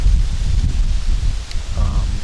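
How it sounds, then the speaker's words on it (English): Low rumbling wind buffeting the microphone outdoors on a windy day of about 60 degrees, gusty and loud, with a brief faint voice near the end. "Windy, as you can see."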